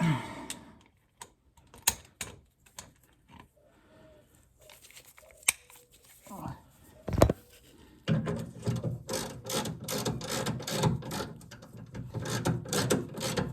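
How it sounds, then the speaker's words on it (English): A ratchet tightening bolts on the gearbox of a Mazda MX-5 NC Mk3 Miata during an oil change: sparse, crisp clicking bursts at first, then a denser, louder stretch of rapid mechanical clatter close by. "Stick it on your ratchet."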